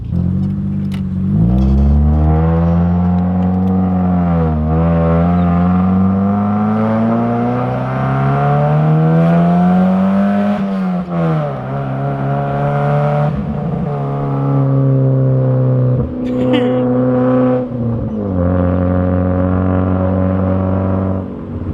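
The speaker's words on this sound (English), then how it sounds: "Keep in mind there's no cat, and then this is the Manzo Catback exhaust." A Mazda Miata with a Manzo catback exhaust and no catalytic converter drives past close by, its loud, raspy exhaust rising and falling through repeated shifts and throttle changes, heard alone without talk.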